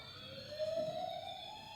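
An ambulance siren wails at a distance, its tone sliding upward steadily, faint and continuous with no voices over it.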